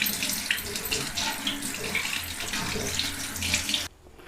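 Tap water runs steadily over boiled macaroni in a strainer, a continuous splashing rush that stops abruptly near the end.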